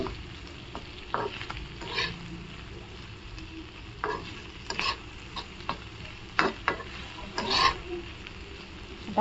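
Boiled cluster beans tossed with spices in a pan, soft background frying under a series of scraping spatula strokes that come in irregular bursts, close and moderately quiet, with no speech.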